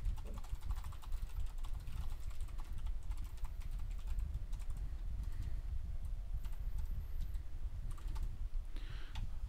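Steady, rapid typing on a computer keyboard, with dense key clicks continuing throughout, close and moderately loud, with no voices.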